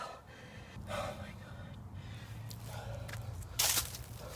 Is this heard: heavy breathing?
yes